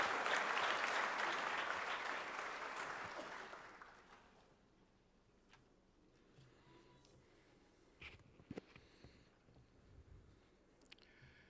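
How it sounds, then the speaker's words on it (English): Audience applause at a UN food systems summit opening ceremony, loud at first and steadily fading out over the first few seconds, followed by quiet room noise with a few faint knocks. "So welcome her with a good round of applause."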